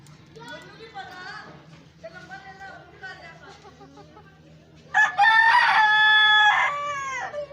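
Hens cluck and chatter softly over a low hum in a winter coop floored with wood shavings, then a rooster crows loudly and close for a few seconds near the end.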